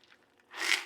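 One and a half cups of dry macaroni noodles pour into a cooking pot in a quick rattling, crunchy rush that lasts under half a second, preceded by faint small clicks.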